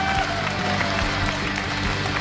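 A studio audience at a Liaoning TV dating show applauds steadily throughout, a dense, continuous wash of clapping with a low crowd murmur underneath and no talk over it.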